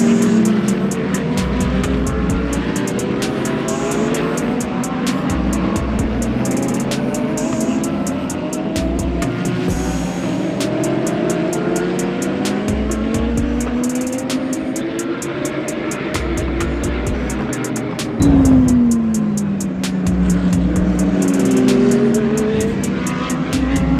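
Race cars at the start of a race on a circuit in Dubai, a loud sustained engine roar with rising and falling revving whines as cars pass, mixed with a steady pulsing drone throughout.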